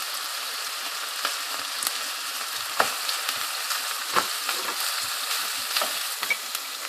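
Steady crackling sizzle of ginger garlic paste frying in hot oil with onions, with occasional spatters and stirring scrapes, close and moderately loud, no talking.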